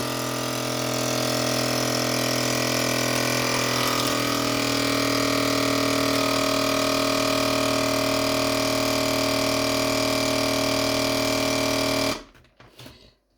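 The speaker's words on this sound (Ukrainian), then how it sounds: "Закриваємо прижимаємо, викачуємо." A Caso VC10 vacuum sealer pumps air from a bag holding a lemon, a steady loud motor drone and hum running unbroken before cutting off near the end, followed by brief handling noise.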